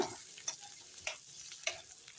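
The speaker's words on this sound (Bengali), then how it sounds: "এখন আলুগুলো আমি ভেজে নেই প্রথমে দিয়ে দিলাম" Potatoes frying in a pan as the first step of a home-style Bengali lentil dumpling curry, a steady close sizzle broken by three soft clinks of stirring.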